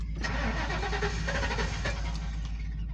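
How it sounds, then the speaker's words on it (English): An old Ford car's starter cranks continuously as the engine struggles to catch, a loud, steady churning whir that carries through without firing up. "Sometimes it's a little hard to start on the first try."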